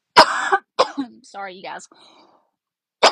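A person recovering from an illness coughs sharply twice, clears their throat, speaks briefly in between, then coughs once more, close and loud.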